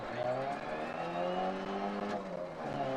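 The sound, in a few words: rally car crashing into a wall in Dirt Rally video game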